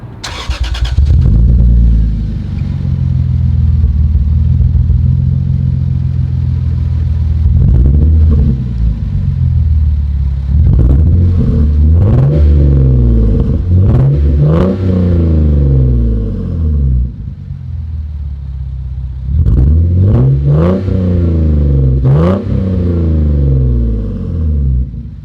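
Lexus IS300 with a 2JZ engine and HKS exhaust, idling with a deep rumble and then blipped repeatedly to about 4,000 rpm, several rising and falling revs in bursts, loud and close.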